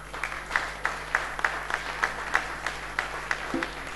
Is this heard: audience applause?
yes